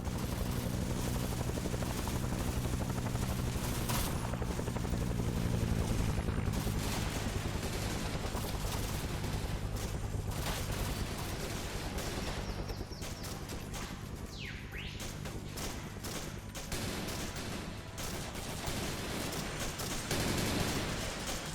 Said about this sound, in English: Oh, they remounted the heavy machine gun.